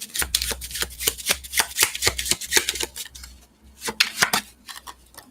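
A deck of cards being riffle-shuffled quickly by hand in a series of crisp, rapid fluttering bursts, close and fairly loud, with brief pauses between riffles and no talking.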